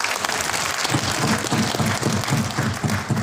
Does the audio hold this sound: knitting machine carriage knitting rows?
no